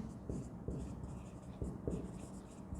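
Pen writing on paper during an accounting lesson, with a few scratchy strokes and taps spread through the clip, close and fairly quiet over a low room hum, no speech.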